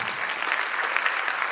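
Audience clapping for a family at a bishop's inaugural speech event, a brief steady burst of dense applause from a crowd, fairly loud and even throughout.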